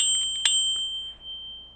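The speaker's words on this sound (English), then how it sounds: "make sure to ring that little bell" A small notification bell dings a few quick, bright metallic strikes with one louder ring in the middle, then rings out and fades, alone with no talk.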